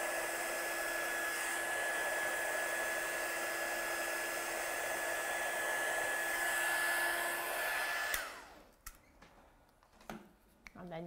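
Heat tool blowing hot air to set embossing powder on thin vellum, a steady, loud whooshing whine with a constant tone that stops abruptly, followed by a few faint handling clicks and rustles.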